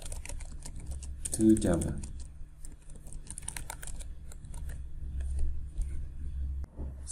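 Code is typed on a computer keyboard in quick, uneven bursts of light clicks, with a voice speaking briefly over the tapping.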